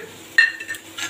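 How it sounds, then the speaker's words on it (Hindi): Rock salt being mashed in a kadai, heard as a sudden close metallic clink and scrape of a utensil against the pan, followed by softer scraping in a quiet kitchen. "हमें सेंधा नमक को बिल्कुल मैश कर लेना है कढ़ाई में"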